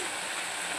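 A glass of water poured into a pan of Hyderabadi mutton masala curry, producing a steady, close, continuous rushing splash.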